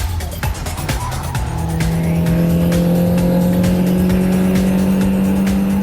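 Mini race cars roar around a track with loud revving engines and squealing tires, one car's engine note climbing into a sustained high whine as the pack races close by.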